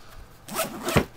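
A zipper on a hiking gear bag slides open in two quick, close pulls with a pause between, alone and without talk.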